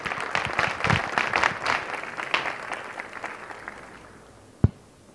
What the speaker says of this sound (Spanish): Demos un caluroso aplauso a Daniel Divinsky de Argentina